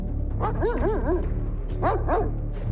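Guard dogs bark behind barbed wire at a hotel compound, two short bursts of several barks each, moderately close, with a low background hum between them.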